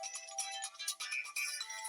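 A son's mobile phone plays a melodic ringtone, rising and falling in short tonal phrases, faint and slightly distant.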